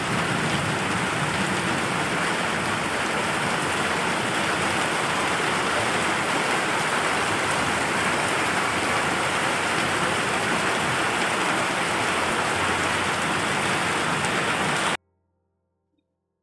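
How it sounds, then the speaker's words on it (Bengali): Heavy rain pours steadily outside a rural home, a dense, continuous hiss at constant loudness for about fifteen seconds before cutting to silence. "বাইরে খুব জোর বৃষ্টি হচ্ছে"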